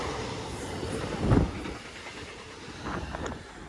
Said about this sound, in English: GWR IET passing through.